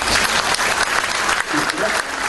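A church congregation in Jakarta claps loudly and steadily during a lively sermon, a dense wash of applause with voices mixed in throughout.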